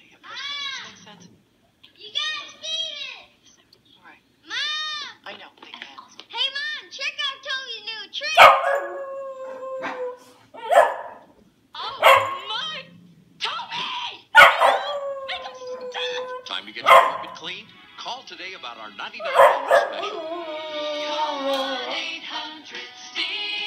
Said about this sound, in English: this is Molly, our dog, and she loves singing along to Stanley Steamer songs.